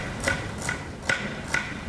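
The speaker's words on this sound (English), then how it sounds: "make sure cut the onion into half" A knife cuts through an onion on a board, four crisp, evenly spaced taps heard up close at moderate loudness.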